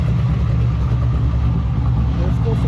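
A V8 from an LS swap idles steadily in an Infiniti G35 with a freshly repaired exhaust leak, a loud, close, continuous low rumble throughout with no talk.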